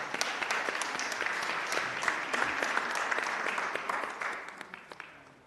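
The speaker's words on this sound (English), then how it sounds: "let's give them another round of applause" A San Francisco Board of Supervisors meeting crowd gives sustained applause for honored women, steady dense clapping that carries on for several seconds and tapers off with a few last scattered claps at the end.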